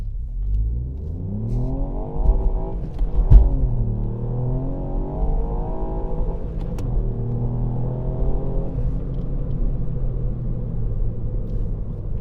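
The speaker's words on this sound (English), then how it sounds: "So nice and easy on launch control." A Ford Fiesta ST MK8 pulls away on launch control, its engine revving up through rising and falling sweeps, with one gear change and then another, heard from inside the car as a loud, continuous rumble.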